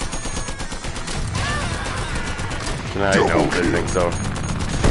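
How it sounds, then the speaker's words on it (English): Gunfire in the VR shooter Bulletproof, dense bursts of rapid shots with a louder burst near the end, under excited speech from a player. "Shoot each other down by yourselves."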